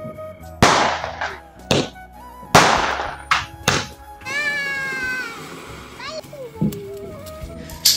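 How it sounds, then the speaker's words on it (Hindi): Sky shot fireworks burst over Kullu district on Diwali night, several sharp booms and cracks in an irregular sequence with a whistling rise in between. People talk nearby between the bursts. "तो सामने है कुल्लू डिस्ट्रिक्ट और वहां पे फाड़े जा रहे स्काई शॉट।"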